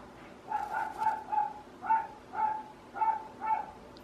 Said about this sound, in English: Sorry about the neighbor dog.